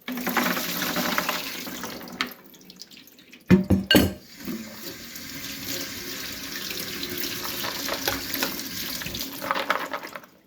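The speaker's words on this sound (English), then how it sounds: "So we're gonna rinse these almonds." Tap water runs steadily into a sink while soaked almonds are rinsed for homemade almond butter, with a loud clatter of a strainer or pan partway through and the flow continuing underneath.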